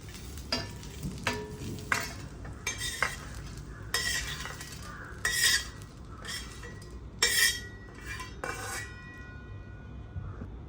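Metal utensil stirring and scraping spices being dry-roasted in a pan, with intermittent clinks and soft rustling as the spices are tossed around.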